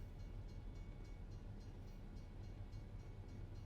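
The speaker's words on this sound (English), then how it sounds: "That's a slow train, I tell you." A slow train rolls past in American Truck Simulator as a steady, low rumble with faint rhythmic clatter, distant and even throughout.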